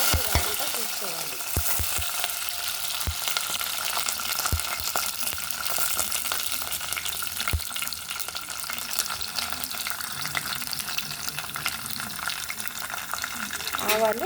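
Mustard seeds, peanuts, curry leaves and ginger fry in hot oil for foxtail millet upma. The sizzle is dense and continuous, with scattered pops and crackles and some stirring, and it stays close and steady throughout.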